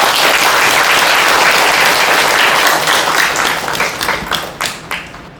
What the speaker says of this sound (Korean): 모두 박수로 환영해 주시기 바랍니다